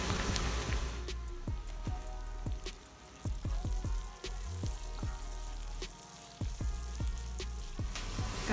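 Chopped onion sizzles and crackles steadily in a hot pan with garlic, cooking for prawn chilli, with frequent sharp pops and spatters and no talking.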